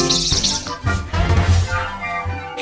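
A King of Saxony bird-of-paradise calls in a forest canopy with a series of close, buzzy, rasping notes over dense rainforest ambience and other distant birds.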